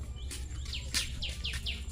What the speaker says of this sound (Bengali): এই একটা পাখির ডাক শোনা যায় এই পাশে।